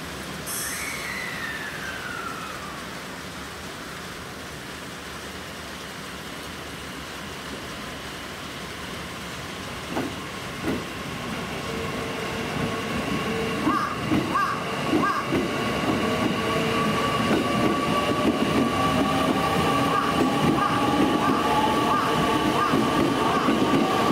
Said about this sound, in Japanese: 車掌乗務のツーマン普通列車が出発していきました